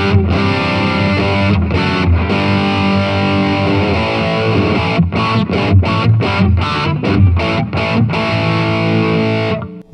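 An electric guitar through a Blackstar LT series distortion pedal chugs out loud, heavily distorted riffs, with choppy muted stabs and sustained chords, close and alone.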